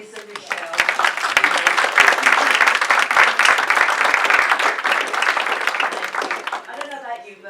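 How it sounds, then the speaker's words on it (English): An audience at a talk on using AI to improve HR outcomes breaks into sustained applause, a dense steady patter of many hands, with some louder individual claps and voices mixed in before it fades. "Ladies and gentlemen, would love a round of applause for Liz and Michelle."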